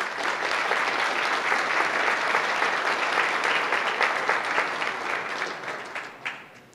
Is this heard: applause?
yes